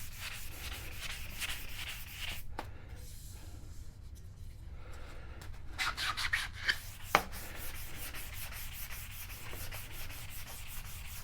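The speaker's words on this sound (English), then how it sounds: "Maybe I should use my sanding sponge." Steady scratchy rubbing of a sanding sponge on wood, continuous strokes close by, with a brief pause and a couple of sharp knocks midway.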